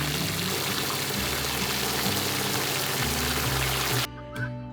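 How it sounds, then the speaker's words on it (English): Fresh water pours steadily into a waterer for free-range homestead chickens, a continuous close splashing rush that cuts off abruptly near the end, followed by a faint clunk. "I'll go ahead and put fresh water in that as well."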